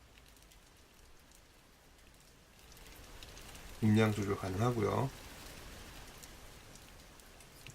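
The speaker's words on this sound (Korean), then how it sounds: "10월의 빗소리를 한번 들어볼까요?" Steady rain from an ambient sound app patters continuously throughout, with a person speaking briefly in Korean over it partway through.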